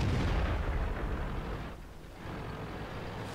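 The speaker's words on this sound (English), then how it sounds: "some more shots coming across" Tank gunfire in the online game World of Tanks during a tournament match, a muffled deep boom followed by a rumbling decay and a second dull thud, heard from a distance with no talking.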